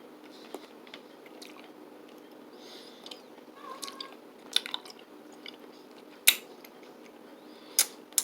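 Someone chews a very chewy mini gummy candy up close: soft, sticky mouth sounds with a few sharp clicks and smacks, fairly quiet and with no talking.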